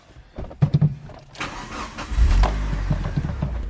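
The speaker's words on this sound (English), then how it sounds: "Let's see how it goes when we start up the car" Mitsubishi Evo starting up: a few clicks and a whirring crank, then the engine catches with a deep rumble and settles into a steady idle, close and loud with no talk.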